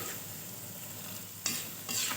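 Oil sizzles steadily as okra (bhindi) pakoras fry in a pan, with a couple of brief louder stirring scrapes near the end.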